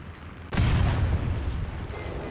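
Aircraft strafing gunfire in War Thunder: a sudden loud burst of heavy rapid fire erupts, then continues as a dense rumbling barrage with a sharp crack near the end.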